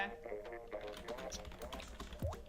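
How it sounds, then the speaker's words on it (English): Keyboard typing during a live tournament stream, a steady patter of key taps running under background voices and game sound throughout. "Sorry about the typing noises."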